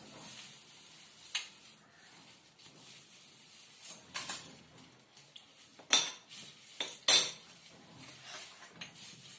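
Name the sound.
mixing chaat with salt and chili powder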